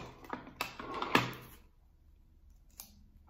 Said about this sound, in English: I'm just gonna use some scotch tape for this.